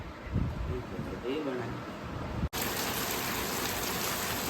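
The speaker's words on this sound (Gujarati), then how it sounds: "અમારા અંશુભાઈ વરસાદમાં નાહવા ગયા છે ભાઈ" Steady rain pours down outdoors, a dense hiss that fills the background while a voice talks over the first half, then continues alone, louder and unbroken after an abrupt cut.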